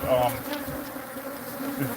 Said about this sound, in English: These bees are angry though.